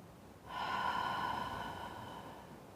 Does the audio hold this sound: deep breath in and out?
yes